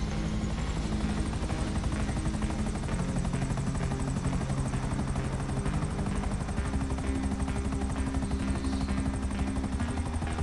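Helicopter in GTA Online flying steadily, a loud continuous rotor chop with a droning engine whine running unbroken throughout, close and dominant with no talk.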